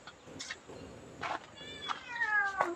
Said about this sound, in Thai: ลูกเจ้าเหมียวน้อยมาใหม่ร้องเงี้ยวๆอยู่